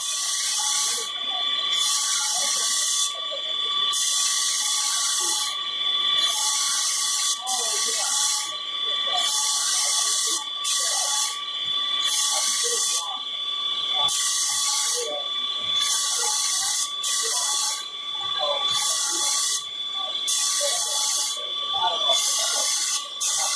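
A Burr King surface grinder grinds Maxamet steel in repeated passes, giving a loud, steady high-pitched hiss and whine that swells and dips with each pass while voices talk faintly underneath.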